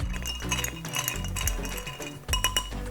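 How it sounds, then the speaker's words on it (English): A spoon stirs cocktail ingredients in a glass with rapid clinks and rattles of metal against glass, close and fairly loud, in quick irregular bursts. "Next, I have my trusty clean spoon. We are going to stir it."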